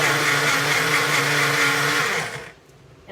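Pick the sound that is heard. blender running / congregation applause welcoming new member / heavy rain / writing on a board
blender running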